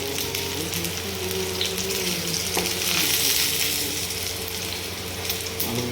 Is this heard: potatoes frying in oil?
yes